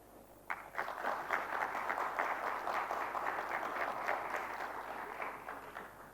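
Sustained applause from a crowd, many hands clapping steadily at a fairly even level for several seconds after a brief quiet start.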